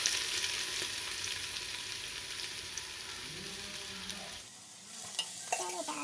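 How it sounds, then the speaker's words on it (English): Green chilies and onions sizzle and crackle in hot oil in a pan while being stirred for a South Indian dry fish curry, with a steady close frying hiss that drops away near the end. "stir this until it gets golden brown"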